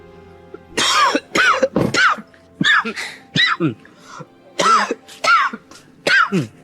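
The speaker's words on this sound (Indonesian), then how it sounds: "Batuk-batuk gitu." A person coughs and clears their throat repeatedly in harsh, close bursts, about ten in a row with short pauses between.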